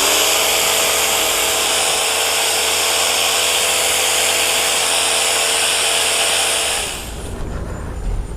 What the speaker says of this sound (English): I'm using one of these hammer drills with a masonry bit.